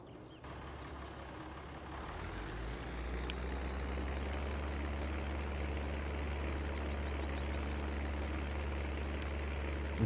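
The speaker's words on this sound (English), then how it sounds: "This wood chipper is heavy, and this tractor doesn't like it." A tractor engine in Farming Simulator 19 drones steadily as it hauls a heavy wood chipper, revving up after a brief start and then holding a loud, constant low roar.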